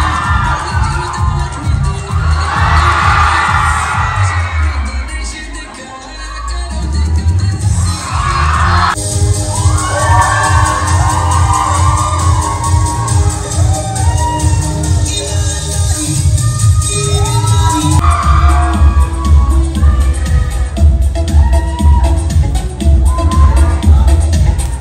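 A packed audience at a college cultural and musical night in Kamki, West Siang, roaring with loud sustained cheering, whoops and shouting children, briefly dipping before surging again, with voices mixed through the din.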